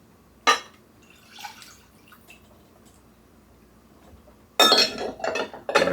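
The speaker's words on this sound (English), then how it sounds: "And then I'm going to add 1 cup of water to that." Water poured into a pot holding drippings from a rotisserie chicken: a single clink early on, then a quiet stretch, followed by a loud, close splashing gush of liquid near the end.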